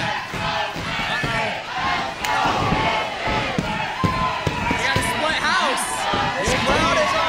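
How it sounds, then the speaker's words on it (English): A wrestling crowd roars and chants at a New South Pro Wrestling match, loud and dense, with thuds from the ring and voices shouting through the din. "Crowd is on fire!"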